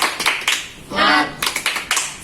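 Children in a primary school class clap a quick rhythmic 'tepuk semangat' pattern in short, close, sharp bursts, broken midway by a brief shouted voice before the clapping resumes.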